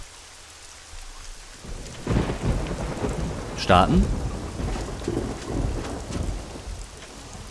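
Steady rain pours with rumbling thunder in the video game SCUM, a dense wash of noise under a single spoken word, with a sharp effect sound briefly cutting through.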